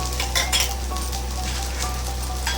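Bitter gourd fries in a little raw oil in a pan on a gas stove over lowered heat, a steady close sizzle under intermittent scraping and clinks of a spoon stirring against the pan.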